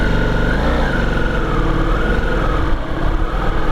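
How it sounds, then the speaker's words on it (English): A Ducati Multistrada V4S motorcycle pulls away in fourth gear with a loud, steady engine drone that stays close and even throughout, with no talk over it. "can we start off in fourth gear with the Multistrada V4S?"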